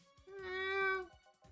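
A cat meows once in the video game Va11-Hall-A, a single drawn-out, clear meow lasting about a second, close and fairly loud, with faint game background sound around it.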